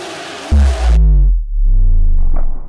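A Lego monster truck's engine revs loudly and alone as it jumps over a line of Lego cars. The pitch drops, then climbs again in two strong surges.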